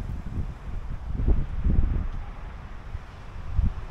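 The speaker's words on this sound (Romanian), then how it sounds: "Bate vântul foarte tare." Strong wind gusts in a French parking area lined with trees and olive trees buffet the microphone with low rumbling roars that swell and fade, with a faint rustle underneath.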